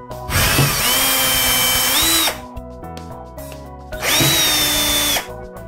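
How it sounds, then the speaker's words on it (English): A power drill whirs loudly in two bursts of about two seconds each, rising in pitch as it bites into a hinge mounting, with a quiet pause between. "we'll go ahead and drill these holes"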